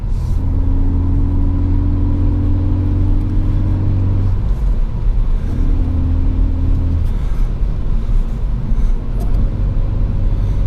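Steady cabin drone from a 2017 Ford Focus ST cruising in fifth gear around 2,800 RPM on a snowy road, with a constant low engine hum and tones that hold, break and resume over road rumble.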